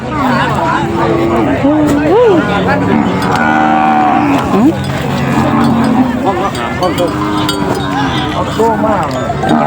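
Cattle and buffalo mooing at a busy open-air livestock market in Sawang, Sakon Nakhon, Thailand, with long wavering calls rising and falling over loud crowd chatter and someone talking throughout.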